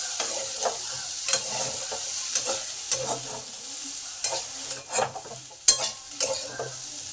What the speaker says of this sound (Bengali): আলু পেঁয়াজ সব ভালোভাবে ভাজা ভাজা হয়ে গেছে